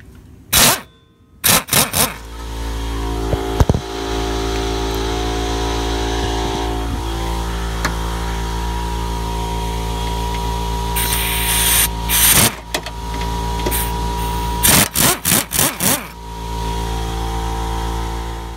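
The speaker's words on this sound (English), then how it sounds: "I didn't really need my impact wrench, but I like playing with it." An impact wrench works the 14 mm bracket bolts on a 1999 Infiniti QX4 rack gear, giving short rattling bursts near the start and then a quick cluster of hammering pulses later, over a steady background hum.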